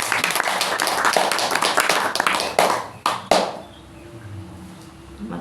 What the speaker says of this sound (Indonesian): Tepuk tangan Berkah Liyongti yang hebat.